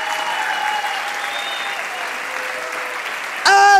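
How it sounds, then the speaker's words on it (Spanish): A church congregation breaks into loud, dense applause near the end, a sudden burst of clapping after a stretch of sustained music and voices. "Aplauda, aplauda, aplauda."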